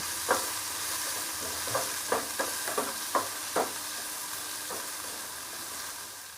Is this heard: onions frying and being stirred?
yes